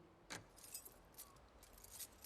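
Keys jangle in The Last of Us Part II, a few quiet metallic rattles and clinks in a short burst and then scattered jingles over faint background ambience.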